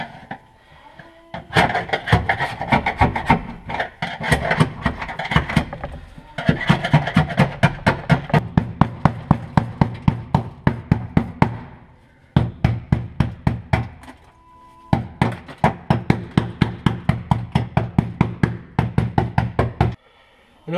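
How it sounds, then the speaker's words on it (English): Sound deadening being chipped and scraped off a wagon's floor in near-freezing cold, with rapid series of sharp knocking and hammering impacts in bursts, loud and close, separated by short pauses. "perfect time to get all this sound deadening up"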